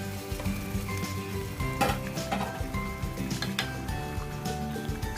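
Fried chicken pieces tumbling into a pot of chicken biryani masala and being stirred, with a close, steady sizzle and clinks of a spoon against the pan, no talking.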